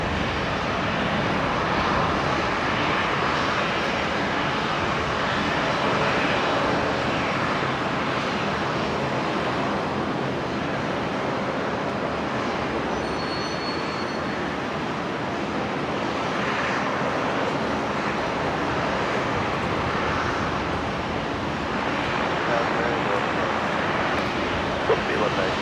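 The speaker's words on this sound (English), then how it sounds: "The Jetstar 321 Neo next in that fantastic new livery." A Jetstar Airbus A321neo jet airliner at Brisbane Airport gives a loud, steady broadband engine roar that holds evenly for the whole stretch.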